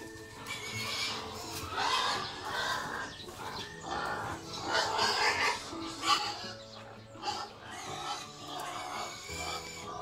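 Farm animals at close range on a rural property where pigs are kept, with repeated squealing, grunting calls and other livestock noises running continuously for ten seconds at moderate level.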